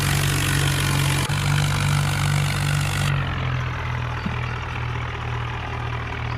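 A tractor engine idles steadily nearby, a low continuous rumbling drone with no voices.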